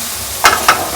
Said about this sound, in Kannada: ಮಶ್ರೂಮ್ ಹಾಕಿ ಫ್ರೈ ಮಾಡ್ತಾ ಇದ್ದಾರೆ.